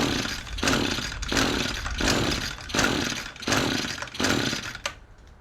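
An Echo SRM-225 string trimmer engine being pull-started at half choke without its air filter, five rhythmic rasping pulls about once per second that never catch, close and loud.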